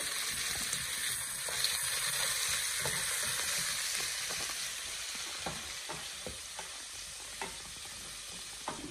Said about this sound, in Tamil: சரக்கு கறிக்கு தக்காளி பழம் போட்டு வதக்க போகிறோம்.